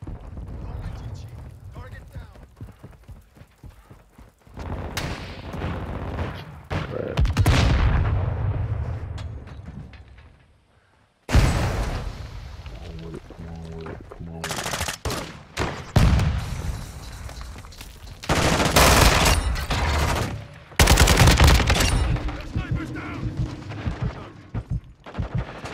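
Repeated gunshots, bursts of automatic fire and a grenade explosion in a shooter video game's new game mode, loud and dense throughout, with a short lull midway and talk running over the action.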